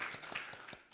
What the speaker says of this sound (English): Please give a big round of applause for Dr. Zhuang